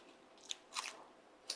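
Spicy ragi mudde (finger millet balls) is eaten up close, with a few soft, moist bites and chews spaced apart in a quiet room.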